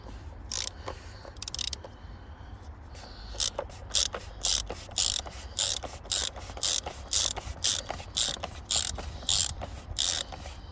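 Socket ratchet loosening the oil filter housing on a Volvo S80 D5, a series of sharp, close clicking bursts in an uneven rhythm with short pauses between strokes, heard alone.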